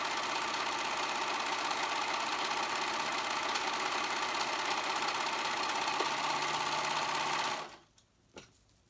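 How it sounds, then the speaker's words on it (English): A serger runs continuously at high speed, stitching and trimming the raw edges of two layers of sweater fabric, a loud even whirring buzz that stops abruptly near the end, followed by a faint click. "now I'm gonna go ahead and serge on the edge, the raw sides, raw edges"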